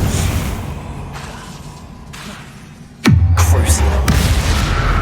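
A Confringo spell blast in Hogwarts Legacy lands as a sudden heavy boom with a swooping low rumble after a quieter stretch of ambient game sound, followed by crackling bursts and a second hit.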